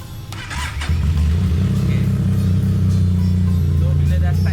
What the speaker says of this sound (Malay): So contoh sekarang bila saya start enjin